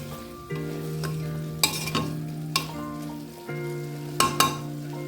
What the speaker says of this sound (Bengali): লবণ দিয়ে নেড়ে চেড়ে নিলাম